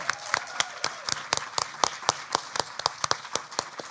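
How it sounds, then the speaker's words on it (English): Audience in Nottingham applauding at a live poetry slam final, a dense patter of many hands clapping with sharp individual claps standing out, steady and close, no talking over it. "Give yourselves a round of applause"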